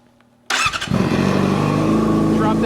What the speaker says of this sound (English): We're gonna hit the starter button here.